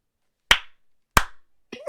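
Two sharp hand claps land about two-thirds of a second apart, close and crisp against near silence, and a brief voice starts just after them.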